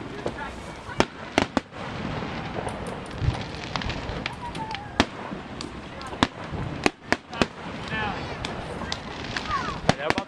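Fourth of July fireworks at Bethpage Ballpark burst loudly and repeatedly in irregular booms and cracks outdoors, with crowd chatter and voices between the explosions.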